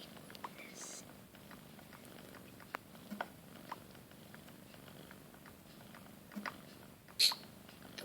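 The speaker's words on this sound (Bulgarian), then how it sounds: "Ако чувате някакво мъркане, ето от котката. Защото тя обича да мърка." A cat purrs softly and steadily close by, a low continuous rumble under faint scattered rustles and a brief sharp noise near the end.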